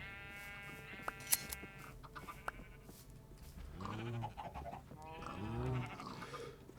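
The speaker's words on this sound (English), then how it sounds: "I've got my shears, I've got sheep." Several sheep bleat in a farming video game, with wavering calls clustered around the middle and end over a steady ambient game backdrop, along with a few sharp clicks near the start.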